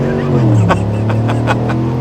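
2024 GMC Sierra Ultimate pickup launching from a standstill, its engine climbing in a loud, rising roar over about two seconds, close by and without talk.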